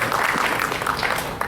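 Audience at a convention's cartoon court panel applauds in a dense, steady wash of clapping, loud and close, lasting the whole brief moment.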